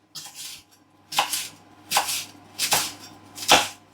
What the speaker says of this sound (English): Chop up the last of the spring onions.